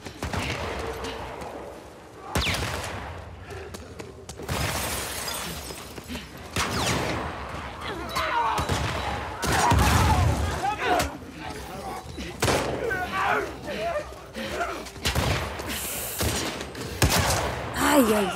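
Pipe bomb blasts and gunfire ring out during combat in The Last of Us Part 2, loud bangs and slams scattered across the stretch under frequent talking from a player.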